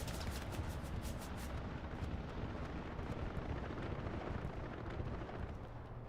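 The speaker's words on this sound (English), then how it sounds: "So that's a strafe over the south side. Is that? Yeah, and a bombing run in the HQ." An aircraft strafing run and bombing run in a war video game, heard as a steady broadband roar of rumbling explosions and rushing air. Sharp bursts at the start give way to a sustained, fairly faint wash of distant battle noise without voices.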